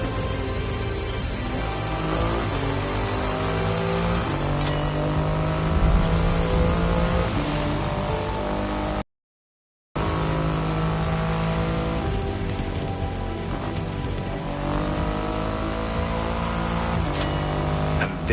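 A Triumph Rocket 3 motorcycle with a 2.5-litre engine revs through rising pitch sweeps, a steady deep rumble underneath, loud and close, with a brief silent gap midway.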